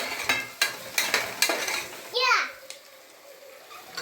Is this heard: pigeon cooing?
no